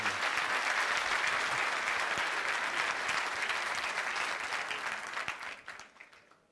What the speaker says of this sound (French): je demanderai à tout le monde d'applaudir